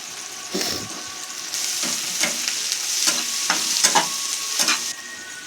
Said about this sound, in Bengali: পেঁয়াজ রসুনটা হালকা ভাজা হয়ে গেলে